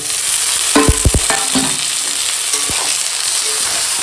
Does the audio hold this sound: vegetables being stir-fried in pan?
yes